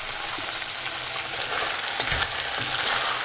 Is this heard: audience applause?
no